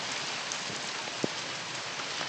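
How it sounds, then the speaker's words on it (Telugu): Heavy rain pours steadily in a dense, even hiss in Hyderabad, with a single louder drop striking nearby. "ఎన్ని రోజుల తర్వాత ఫుల్ వర్షమే వర్షం"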